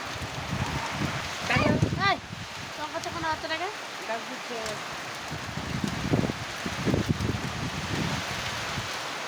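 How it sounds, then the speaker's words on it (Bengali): Rain falls steadily on a tin-roofed house on a hot day, a continuous patter with louder bursts, while a person talks over it near the microphone. "সারাদিন এখানে বৃষ্টি পড়ছে"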